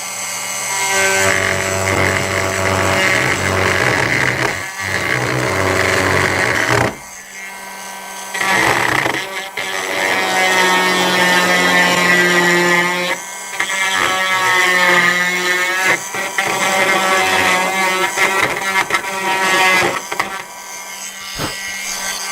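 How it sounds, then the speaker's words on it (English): A drill runs continuously for about twenty seconds, smoothing the edges of a channel in a Cir-kit Concepts component. It is loud and close, with a few brief stops and restarts along the way. "So I'm going to turn on the drill."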